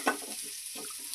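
Broccoli fries lightly with turmeric in a pan, giving a soft, steady sizzle with a few scraping stirs, close and fairly quiet, with no voices.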